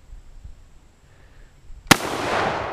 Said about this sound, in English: These are the red tip rounds. We're firing right at that hunk of cement.